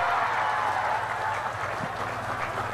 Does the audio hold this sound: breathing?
no